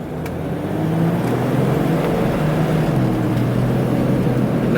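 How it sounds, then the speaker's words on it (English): A red Jeep Cherokee XJ Sport 4.0L SUV driving, steady loud interior road and engine drone with a low hum, rising slightly after the first second, no talking. "Nice driving, nice shifting."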